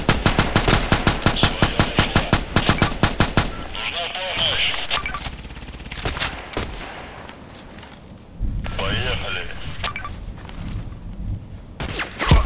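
Rapid automatic gunfire in the video game Contract Wars opens with a fast, loud burst of evenly spaced shots, then scattered single shots and thuds follow, with brief voices in between.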